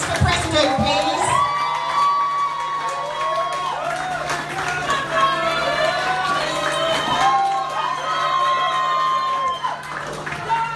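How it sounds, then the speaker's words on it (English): Audience at a student presidential candidates' speech event applauding and cheering with whoops and shouts, a loud sustained crowd swell that carries throughout. "And a round of applause, please."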